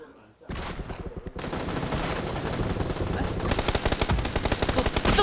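Automatic rifle fire in the PUBG battle royale game, a sustained rapid burst of shots that starts abruptly after a brief pause and grows denser and louder toward the end, close and dominant.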